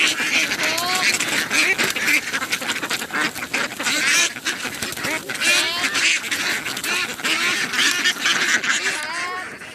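A flock of young female ducks quacking busily while being caught for sale, loud overlapping quacks and honk-like calls coming close and constantly, with a voice now and then.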